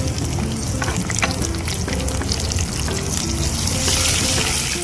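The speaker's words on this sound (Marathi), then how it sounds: "आधी तेल टाकून घेतलं, वाटलेलं लसूण घालून घेऊ। लसूण छान झालेलं आहे, आता मिरची घालू।" Chilies hit hot oil with crushed garlic in a village-style kitchen, producing a loud, continuous crackling sizzle that swells slightly toward the end, with a low steady hum underneath.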